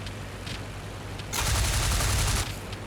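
Aircraft gunner's machine gun firing from a Halberstadt in the WWI flight game Flying Circus: a single rattling burst of about a second over a constant engine drone.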